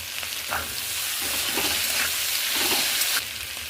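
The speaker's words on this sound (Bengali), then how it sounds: "কাঁকরোলটা মোটামুটি ভালোই ভাজা হয়ে গেছে। এবার আমি 1 হাতা ভরে ভরে নারকেল আর পোস্ত বাটা দিয়ে দিলাম।" Pointed gourd frying in a pan with coconut and poppy seed paste, a continuous loud sizzle with a few soft stirring scrapes.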